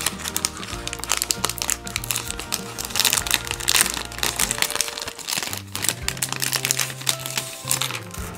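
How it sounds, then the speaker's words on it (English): A plastic bag of 3D puzzle parts is pulled open and handled, giving continuous close crinkling and rustling with small clicks from the pieces inside. "Let's go ahead and open up this bag."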